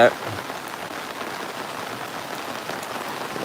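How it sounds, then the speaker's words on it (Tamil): Heavy rain pours steadily onto a surface, a dense, continuous hiss of drops close by that holds at the same level from start to end. "பெய்யுது சரியான மழை"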